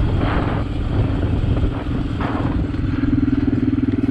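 A tractor engine labors steadily while climbing a hill, a loud continuous drone with a rough, pulsing rumble that strengthens toward the end, heard close and without talk.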